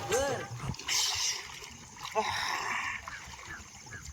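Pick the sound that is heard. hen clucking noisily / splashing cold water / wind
splashing cold water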